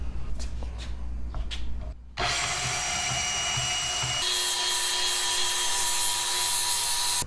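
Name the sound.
power tool cutting scrap steel plate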